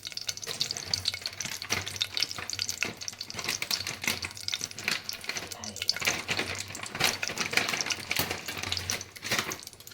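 Sliced onion and cashews frying in hot oil in a pan, a steady close sizzle with crackling and occasional stirring scrapes throughout, no talking.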